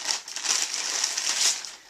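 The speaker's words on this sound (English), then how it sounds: "So I've got some plastic bags," Cut-open throwaway plastic bags are handled and crinkled close by, giving a continuous crisp rustling and crackling with slight swells in intensity over two seconds.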